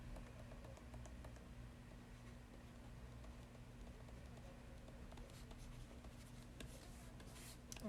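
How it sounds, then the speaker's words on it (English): Marker or chalk writing on a board while a first-order linear differential equation formula is worked out: faint scratchy strokes and light taps in an irregular rhythm, quiet and close in a still room. "Now let me write that again."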